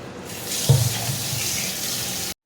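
Tap water runs steadily into a sink while small boneless chicken pieces are washed under it, a continuous close rushing stream with brief splashes that stops abruptly.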